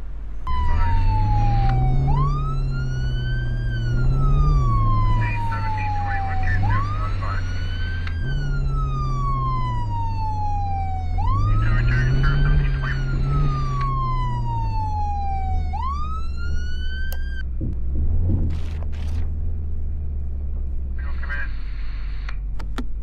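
A police car siren in a video game wails in long, steady rising and falling sweeps over a droning car engine, continuous and close throughout, fading into scattered clicks at the end.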